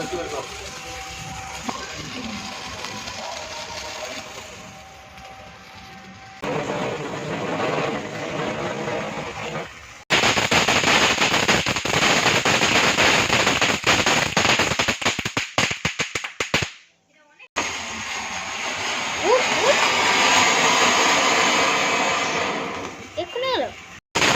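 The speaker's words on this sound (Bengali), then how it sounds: "চলো বাজি ফাটানো দেখি" Diwali firecrackers going off on a rooftop during Kali Puja, with dense crackling bursts and loud bangs in long sustained stretches, broken by brief pauses and some background voices.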